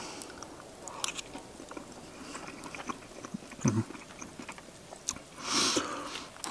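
Someone chews and bites into salmon and prawns with sweet chilli sauce while hammock camping outdoors, producing soft, close crunching and mouth sounds in irregular bursts, with a louder wet smack near the end.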